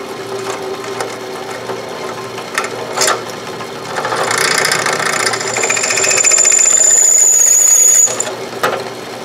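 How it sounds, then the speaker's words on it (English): A Buffalo drill press whirs steadily, then a rising high-pitched squeal as the bit bites into a metal key, loud and close, ending abruptly; no talking. "We're on the Buffalo drill press here,"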